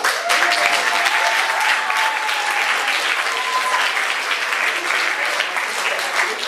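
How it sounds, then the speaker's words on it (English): A high school youth conference audience at UC Riverside breaks into steady, dense applause that stays loud and even throughout, with a voice faintly heard beneath it. "That deserves an applause."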